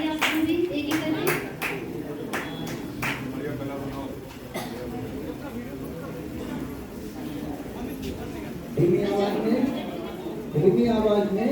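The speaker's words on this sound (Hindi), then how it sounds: "धीमी आवाज में आप लोग स्काउट ताली बजाते रहिए।" Schoolchildren at an Independence Day celebration do a rhythmic scout clap, sharp clap bursts at first then softer, irregular clapping mixed with chatter and a voice leading them.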